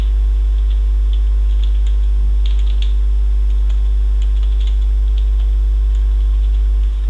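Someone types on a computer keyboard into a cell of an Excel spreadsheet. The key clicks are faint and scattered, sitting under a steady, loud electrical hum, and no one speaks.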